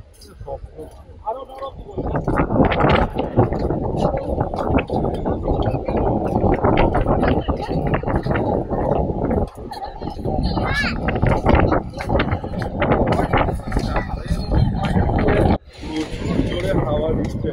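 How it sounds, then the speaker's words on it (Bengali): Strong wind sweeps across the New Digha seafront, a loud, continuous roaring rush that buffets steadily for most of the span, with a person talking over it. "প্রচুর জোরে হাওয়া দিচ্ছে এখানে, প্রচুর জোরে হাওয়া দিচ্ছে"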